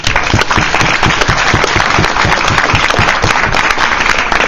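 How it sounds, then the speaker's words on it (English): A debate audience in Glasgow applauds team FOSIS with dense, steady clapping that fills the whole stretch at close range, with a few heavier thumps mixed in. "So why don't we show a round of applause for the team FOSIS?"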